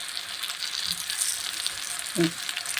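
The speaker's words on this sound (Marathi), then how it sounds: "तवून घ्यायचे मिरच्या म्हणजे तिखटपणा निघून जातो" Green chillies frying in oil in a pan, a steady soft sizzle running throughout with a brief clink of stirring near the end.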